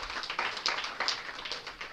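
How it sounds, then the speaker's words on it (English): Scattered applause from an audience at a memorial lecture event, a light patter of clapping heard fairly quietly with no talk over it. "Let's give a round of applause to all of you."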